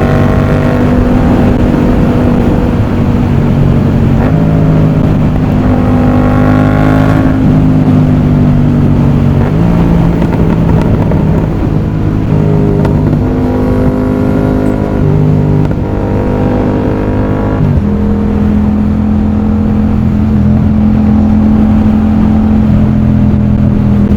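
A Yamaha MT-07 motorcycle engine idles and revs loudly up close, its steady drone rising and falling through several throttle blips with no talking.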